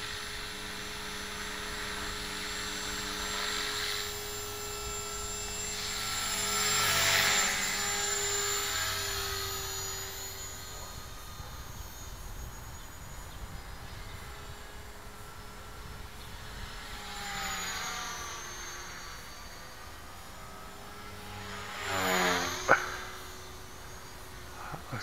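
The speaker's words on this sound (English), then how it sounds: "flybarless helicopter." A flybarless LH-450bb radio-controlled helicopter, heard from onboard in flight, gives a steady high rotor whine with a constant motor drone that swells and eases over the manoeuvres, then briefly surges near the end.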